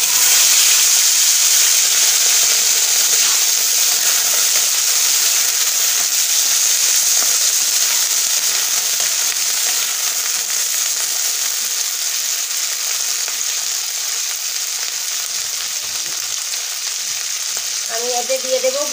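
Washed royal fruits frying in a pan with bay leaf for pickle, a loud, dense and steady hiss of sizzling oil that eases slightly over time, with faint stirring near the end.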